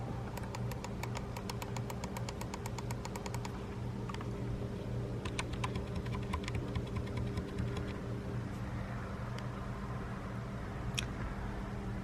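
Clicky key switches on a Corsair K70 or K100 RGB mechanical keyboard typed in a fast run of sharp clicks for the first few seconds. Sparser keystrokes follow over a steady low hum.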